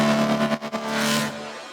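Resampled bass layer run through distortion, stereo widening, OTT compression, plate reverb and tremolo, a dense gritty synth tone that briefly dips and pulses before swelling back, alone.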